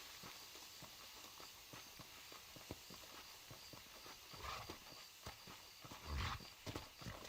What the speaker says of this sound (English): Let's mount our horse.